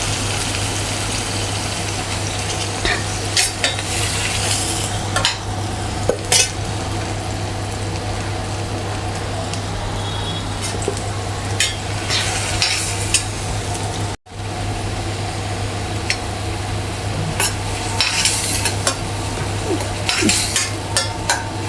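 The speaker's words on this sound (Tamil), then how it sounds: "தக்காளி வதங்குது." Tomatoes sauté in a pan for pav bhaji, producing a constant sizzling hiss with occasional stirring clatter and spoon knocks. A brief dropout comes partway through, and there is no talking.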